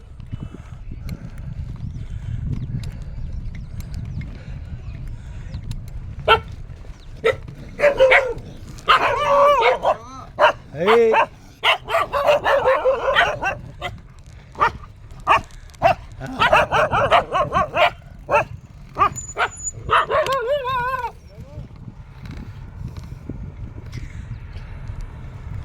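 Several dogs bark along a roadside near a checkpoint, with barks and yips in repeated bursts over a continuous low road rumble, close and fairly loud.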